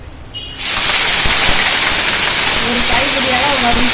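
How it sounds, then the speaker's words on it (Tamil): Fresh curry leaves hit hot sesame oil with a sudden loud, steady sizzle. The sizzle starts after a short quiet moment and keeps hissing close up, with a few faint pops as the leaves fry. "இப்போ கருவேப்பிலை நல்லெண்ணெய் ஊற்றியே தான் நம்ம வறுக்க போகிறோம்"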